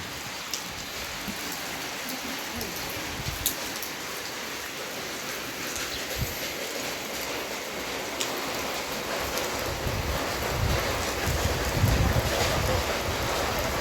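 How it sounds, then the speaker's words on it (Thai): Heavy rain keeps falling during a stormy, cold night, a dense, steady hiss that swells slightly toward the end, with no talking. "ฝนตกเบิดคืน"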